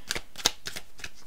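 Tarot cards being shuffled by hand for a card reading, a few quick close riffling bursts in an uneven rhythm, crisp and alone with no voice.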